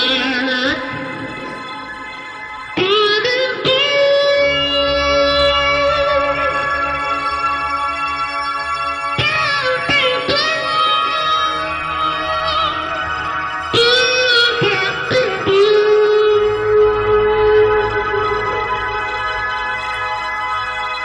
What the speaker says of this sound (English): That is literally all my voice being manipulated.